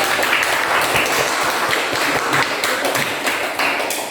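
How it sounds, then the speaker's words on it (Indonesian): A classroom audience applauds a presenting student group with dense, lively clapping that holds steady for about four seconds, close and fairly loud. "Boleh kita kasih tepuk tangan dulu untuk kelompok 2."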